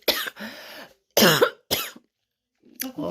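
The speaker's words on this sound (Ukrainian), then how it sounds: "Чуєте мій кашель?" A person coughs several times in short, harsh bursts separated by brief pauses, close and fairly loud.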